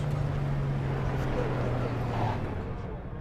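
A car engine idles steadily in the video game Cyberpunk 2077, a low constant hum with a faint tonal drone that holds evenly before easing slightly at the end.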